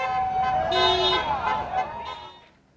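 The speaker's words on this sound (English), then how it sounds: "honking while driving up Gervais Street." Car horns honk repeatedly at a student rally on Gervais Street as vehicles drive past, loud overlapping toots with a sustained blare before fading out at the end.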